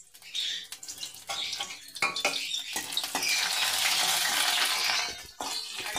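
Chopped onion sizzles in a little hot oil in a wok while a Bengali-style spinach and taro stir-fry is cooked, a loud, steady, bright frying hiss with clinks of stirring up close.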